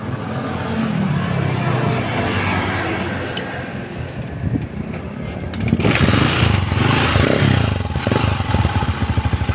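A TMX 155 motorcycle fitted with a converted battery-operated CDI starts up; a rough engine idle catches with a rising clatter and then settles into a loud, steady, close-range running note.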